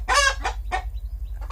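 Backyard chickens and young chicks on a small poultry farm give a few close, short clucks and chirps in quick succession, over a steady low hum.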